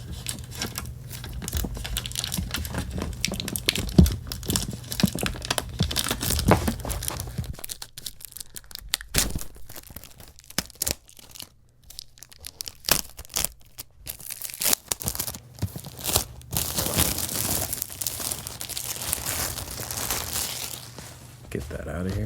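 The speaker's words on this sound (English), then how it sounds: "See the best way to kind of rip this plastic." Plastic wrap being ripped and crinkled off a collector's edition box for the game Metaphor: ReFantazio, close and loud, with sustained tearing and crumpling rustles and a soft-spoken voice talking at times.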